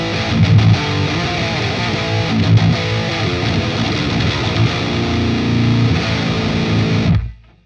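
Electric guitar played loud and heavily distorted through the Neural DSP Fortin Nameless Suite X amp plugin, a dense sustained riff with chugging low notes that cuts off abruptly near the end.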